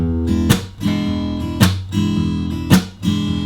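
Fingerstyle blues rhythm in E on an acoustic guitar, played without a pick at a brisk tempo: three sharp percussive strums cut through a steady ringing chord pattern, played alone.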